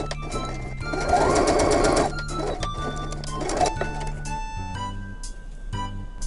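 A sewing machine stitches small patchwork fabric pieces with a 0.5 cm seam allowance, loud close whirring bursts of rapid needle stitching separated by brief pauses and mechanical clicks.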